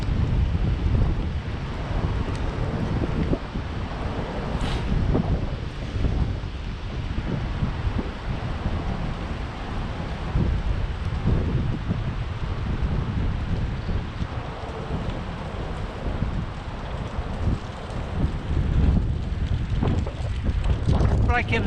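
Cold wind buffets a microphone while someone walks outdoors, a steady loud rushing roar with gusty low rumble throughout and a voice speaking intermittently beneath it.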